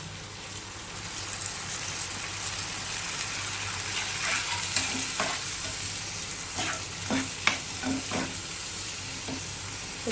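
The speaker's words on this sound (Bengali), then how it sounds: "জিরার গুঁড়ো লঙ্কার গুঁড়ো হলুদ নুন পরিমাণ মতন দিয়ে দিচ্ছি এবারে জল দিয়ে এটা কষাবো" Ground cumin, chili, turmeric and salt frying with water for a taro stolon and shrimp curry give a constant bubbling sizzle, with occasional sharper clinks and scrapes of stirring later on and no speech.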